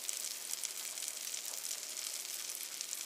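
Eggplant slices fry in a pan with a steady, bright sizzle and crackle that holds at a constant level throughout, with no talking.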